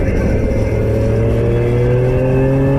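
Triumph Street Triple RS motorcycle accelerating hard through the gears, a loud close engine drone whose pitch climbs steadily over a few seconds.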